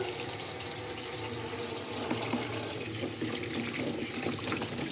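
Cold water runs steadily from a tap into a basin, a continuous close splashing and gushing with no talk over it.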